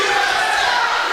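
A wrestling crowd jeers a foreign wrestler, Russian Dynamite Masha Slamovich, during a women's title match; a dense, loud wash of crowd noise is heard with no clear individual voices.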